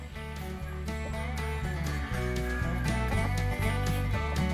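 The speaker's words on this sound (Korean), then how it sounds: "저 어미 닭이 지금 앉아 있는 저 밑에 새끼들을 다 품고 지금 앉아 있는 거거든요" A mother hen sheltering her chicks under her wings from the rain in a rural Philippine village, clucking softly over a dense, continuous background of steady noise and tones.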